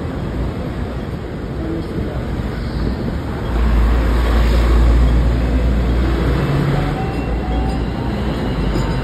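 A tram rolls along a city street on a central road at night, a steady low rumble of wheels on rails rising as it passes close by amid background traffic noise.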